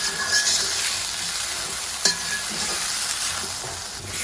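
Green chilli and tomato are stirred into pasta frying in a pan, with a steady sizzle, a spoon scraping, and one sharp knock near the middle.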